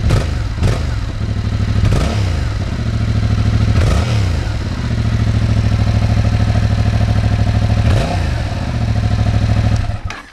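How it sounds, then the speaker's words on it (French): A Yamaha MT-07 motorcycle engine idles up close with a steady, pulsing rumble, broken by a few quick revs that rise and drop back. "Beaucoup aussi demanderont le bruit de cette moto, vous allez vite fait écouter."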